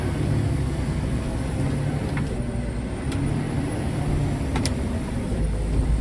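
A vehicle idles and rumbles steadily on muddy ground after sugar beet harvest, a continuous low engine drone with a few brief squeaks, no talk.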